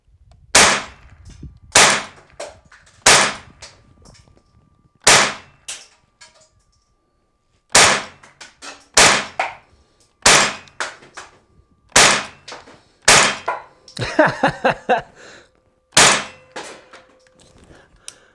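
A high-power air rifle putting out about 100 foot-pounds fires on an outdoor range: around a dozen sharp, loud cracks, each with a short metallic ring, spaced irregularly one to three seconds apart with quiet gaps between.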